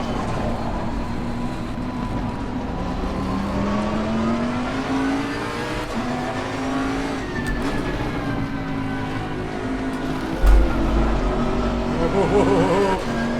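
A GT race car engine in Assetto Corsa Competizione at Laguna Seca drones loudly and continuously, its pitch rising and falling through gear changes, with a commentator talking over it.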